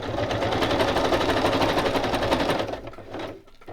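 A sewing machine stitches a zigzag around paper, a loud, close, rapid rhythmic whir that runs for nearly three seconds, then slows and stops.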